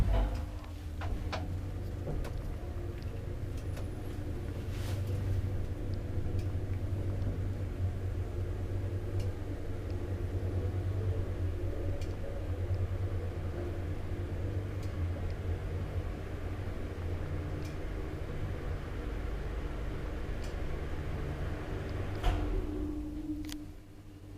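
An old Kone traction elevator rides quietly between floors, a faint steady hum and low rumble carrying on with scattered soft ticks and clicks, ending in a slight mechanical shift near the end.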